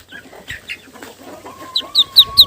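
A mother duck calls close by in short, loud bursts, building to three sharp, high cries at the end.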